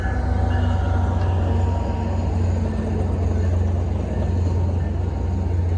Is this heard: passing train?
yes